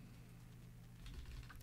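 Soft, quiet keystrokes on a computer keyboard pattering irregularly over a low steady hum, growing slightly busier toward the end of the short stretch.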